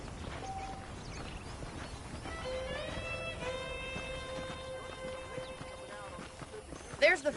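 Horse hooves clip-clop in a steady rhythm in the video game Red Dead Redemption, a horse whinnying partway through, with background game ambience and faint sounds around it.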